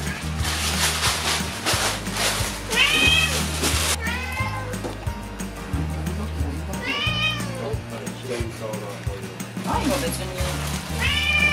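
Several cats in a tiny apartment meow repeatedly, their rising and falling calls recurring through the clip, while people talk over a rhythmic music bed.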